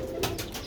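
A Sialkoti pigeon, a young male, gives a brief, close coo, a couple of soft throaty pulses in quick succession.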